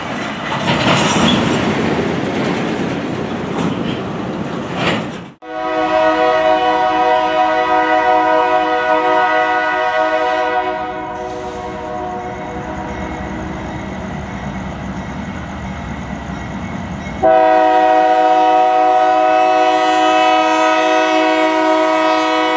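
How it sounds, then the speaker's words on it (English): A train passes close by, with long sustained horn blasts over the loud rumble and clatter of the wheels, the horn cutting out and then sounding again near the end. "It's train time."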